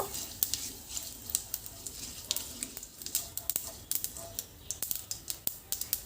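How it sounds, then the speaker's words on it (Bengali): Mustard seeds and white sesame splutter in hot oil: quick sharp pops crackle irregularly, growing denser and more rhythmic toward the end over a soft hiss. "সর্ষে আর সাদা তিলটাকে একটু ফুটতে সময় দেব"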